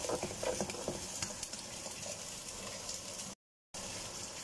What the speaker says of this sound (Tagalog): Binisa lang sa bawang at saka sa sibuyas.